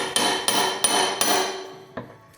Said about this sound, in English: You're gonna hammer on your gas tank?